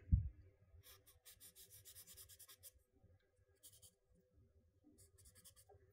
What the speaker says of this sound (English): I'm going to use my paper blender to blend the texture, make it a little bit softer